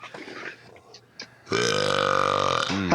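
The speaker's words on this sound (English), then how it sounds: "Early morning coffee burp" A loud, long, drawn-out burp erupts up close after a few quiet murmurs and shuffles.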